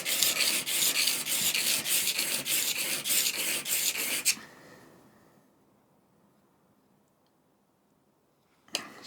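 Cabinet scraper being honed on an 800 grit stone with fluid, a close, steady rhythmic rasping rub for about four seconds, then near silence before a brief scrape at the end.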